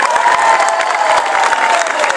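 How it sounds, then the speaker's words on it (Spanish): A large crowd at a birthday celebration concert in Tucumán breaks into loud, sustained applause with cheering, dense and steady throughout. "Un fuerte aplauso"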